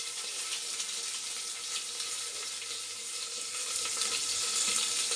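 Onions sizzle in hot oil in a pan with curry leaves and dried red chillies for a pigeon pea sambar, a steady, dense frying hiss that grows slightly louder toward the end.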